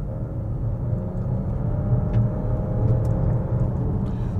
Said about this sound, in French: Là, j'accélère à fond.